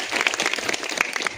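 A short burst of steady clapping from a crowd gathered for a Republic Day ceremony, dense and moderately loud throughout.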